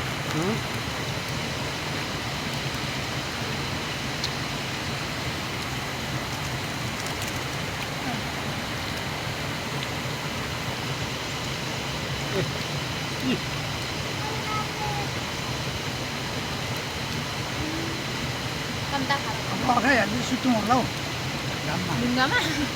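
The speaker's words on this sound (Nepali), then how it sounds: "पानी सुन्नु हुँदैन तपाईँ" River water flowing over rocks, a steady broadband rush throughout, close and continuous, with faint voices and splashes near the end.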